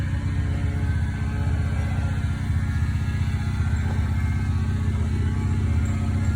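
A Toyota engine mounted on a homemade log splitter, fitted with an upward muffler, runs at a steady idle, a low continuous throbbing rumble close by with no talk.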